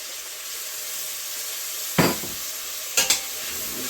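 A spoon stirs chili beans with ketchup, mustard and Texas Pete in a pot over a soft constant sizzle, with two brief scraping, clattering strokes about a second apart.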